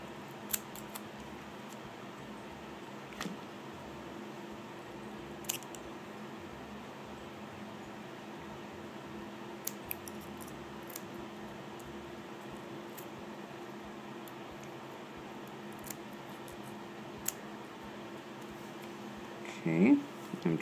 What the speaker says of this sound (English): Now what I'm going to do is get my scissors. I'm going to look underneath there and I'm going to start cutting off this excess paper.